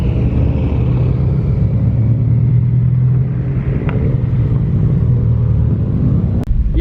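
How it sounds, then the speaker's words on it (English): Cars idle and rumble steadily at SubiFest, a Subaru gathering, with a loud low engine drone, a brief rev swelling near the middle and a sharp short knock near the end. "They're over here revving like."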